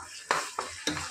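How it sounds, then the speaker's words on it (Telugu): Tomato added to a hot frying pan with ginger-garlic paste sizzles softly while a utensil stirs in three quick scraping strokes, close and fairly quiet. "వేసేస్తున్నా టమోటా."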